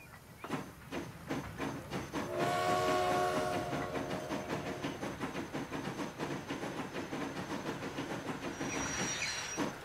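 A Prussian T5.1 or BR 71.0 steam locomotive in Transport Fever 2 pulling away. Rhythmic chuffs are heard, then a long hissing, whistle-like tone with bright harmonics, and a steady chugging beat under the steam noise.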